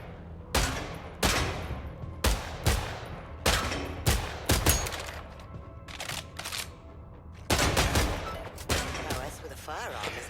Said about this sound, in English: Unholster your sidearm, would you? Never underestimate the value of a well-maintained sidearm in these situations. Now, shoot the targets.